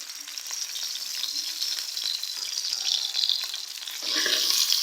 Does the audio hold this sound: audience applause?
no